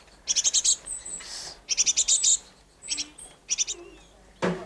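Young birds give harsh, rapid begging calls in four loud bursts of repeated squawks, with a brief rustle at the end.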